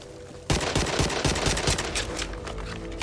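Rifle gunfire in the zombie shooter game Back 4 Blood, heard as a loud, rapid burst of rapid shots that starts suddenly and continues to the end.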